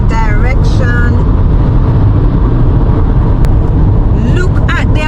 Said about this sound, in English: Traffic in the other direction.